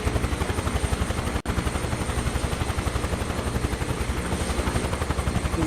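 Helicopter engine and rotor in Microsoft Flight Simulator 2024, a loud, steady, rapid rotor chop that fills the whole stretch, broken only by a brief dropout near the start.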